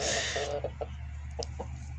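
Two roosters and a hen in a poultry yard, a few short clucks and squawks, louder at first then sparse and quieter, over a steady low background hum.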